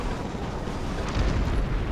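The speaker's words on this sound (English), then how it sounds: "It's a long-range cannon shot." Long-range cannon blast from the creature Gargantua in the video game Folklore, a deep rumbling boom that rolls on for about two seconds like an eruption, loud and heavy in the low end.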